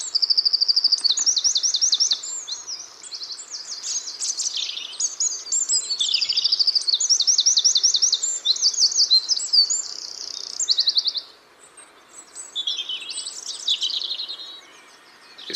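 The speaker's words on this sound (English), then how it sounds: "It's crazy to see all the birds singing" Birds sing near a pond in spring, bright rapid trills and warbling phrases repeating close by, almost continuous with a short pause near the end, no voices.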